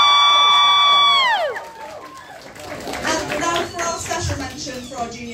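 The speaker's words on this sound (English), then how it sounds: "if we could have a massive round of applause for the Mangle." A crowd at a Saturday cosplay competition at AnimangaPop Plymouth claps and cheers for a contestant, rising after a sustained musical tone fades out, with lively mid-level clapping and some voices mixed in.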